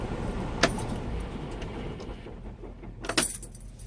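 Keys to a long-driven truck jangle in two brief bursts right after the engine is shut off, over a low steady background rumble with no talking.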